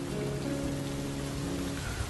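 Rain falls in a steady, dense patter on a surface, continuous and even throughout, used as a sound effect in an audio story, with no voice over it.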